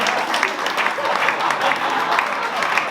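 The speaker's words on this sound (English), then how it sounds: "Make some noise. Give it up for Clipperman, man." Audience applause fills a stand-up comedy club showcase, a steady dense clatter of many hands clapping close and loud throughout, with a few voices mixed faintly into the crowd.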